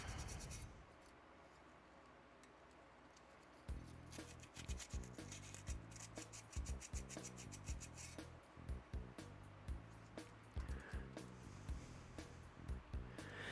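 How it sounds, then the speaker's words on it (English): Sandpaper rubbing over a ceramic piece before glazing, a soft steady scrape at first, then repeated rhythmic back-and-forth strokes with gritty rasping, close and fairly quiet. "So it needs a little bit of sandpaper."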